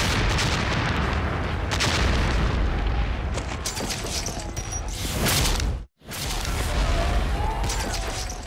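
Artillery fire during the 1776 Battle of Long Island, a dense, loud roar of cannon booms and blasts that continues without a break, stops suddenly for a moment, then resumes just as heavily.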